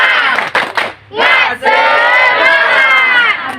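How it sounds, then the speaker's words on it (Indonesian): A group of teachers and staff at a school foundation competition bursts into a loud unison spirit clap chant, shouting voices rising in a brief burst, pausing, then sustaining a long crowd cry. "Tepuk semangat."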